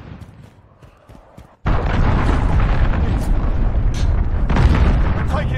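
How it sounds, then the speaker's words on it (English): Cruise missile strike in Call of Duty Modern Warfare: after a brief quieter stretch, a sudden heavy blast erupts into a sustained loud rumbling roar with crackling debris and smaller pops, with voices faintly present. "Cruise missile away."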